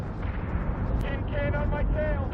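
Big capital-ship guns fire on a base star in Battlestar Galactica, giving a steady, loud barrage of booming, rumbling blasts with ringing high tones layered over a continuous low roar.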